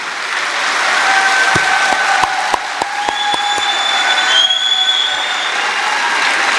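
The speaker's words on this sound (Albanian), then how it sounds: "Po një duartrokitje të stuhishme" Loud, sustained crowd applause at a political rally with a series of sharp rhythmic clicks or knocks cutting through partway, plus a faint high whistle-like tone.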